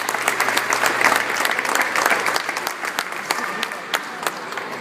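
An audience at the opening of a Science on a Sphere exhibit at Science Central breaks into a round of applause, dense, steady clapping from many hands that holds for several seconds and thins slightly toward the end.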